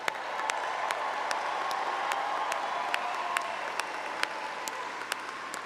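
A large audience claps steadily at a university graduation ceremony, a dense, even wash of applause with a few sharper individual claps standing out throughout.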